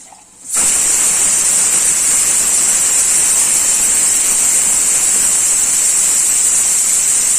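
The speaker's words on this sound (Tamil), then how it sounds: "நான் இப்போ இதில் தேவையான அளவுக்கு தண்ணி ஊற்றிக்கிறேன்." A steady, loud rush of water pouring into a pot without a break after a brief quiet start, a continuous hissing gush.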